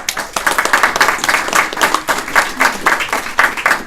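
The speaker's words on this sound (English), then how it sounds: "So I'd like us to give a round of applause for our first panel" Audience at a policy conference on EU land solutions gives a round of applause for the first panel, brisk continuous clapping from a moderate crowd, fairly close and steady throughout.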